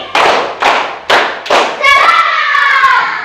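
Schoolchildren in a classroom clap together in unison, four loud, sharp group claps spaced about half a second apart, followed by a sustained shout from many young voices.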